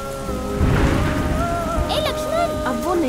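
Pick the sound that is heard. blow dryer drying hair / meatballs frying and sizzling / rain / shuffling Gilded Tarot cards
rain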